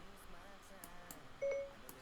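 A phone notification tone goes off suddenly during a Lightroom photo editing session, a short steady beep rising clearly over quiet room noise near the end.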